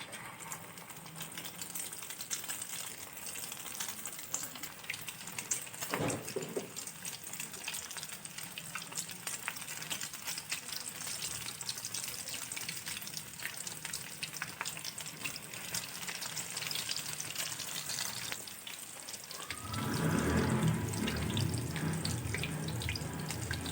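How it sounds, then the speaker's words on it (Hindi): Egg-coated chicken vegetable sticks fry in hot oil with a continuous close crackling sizzle that swells louder near the end, no voices present. "अब मैं अंडा लगा के इनको फ्राई करूंगी।"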